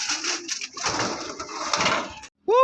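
A racing pigeon at a loft during a Calamba, Laguna race clock-in coos and flutters close by, a busy rustling stretch with soft throaty calls, then a brief silence and a sharp high sound.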